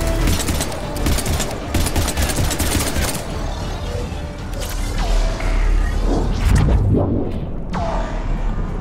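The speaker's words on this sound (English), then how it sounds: "I don't like this weapon, the Vindicator." Rapid bursts of Vindicator rifle gunfire in the video game Mass Effect 3, loud and close, with sharp rattling volleys, metallic mechanism clanks and crashing impacts, tapering into scattered shots.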